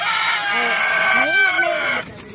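A rooster crows loudly and close, its call rising and falling, with clucking chickens around it.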